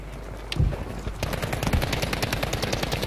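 Rapid gunfire in the video game Battlefield, with a sharp shot or two followed by a fast, steady burst of automatic fire that runs continuously to the end, loud and close.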